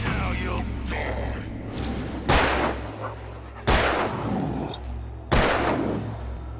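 Gunshots ring out in the Alan Wake video game, first softer ones and then three loud, sharp reports spaced about a second and a half apart, each leaving a brief rumbling tail.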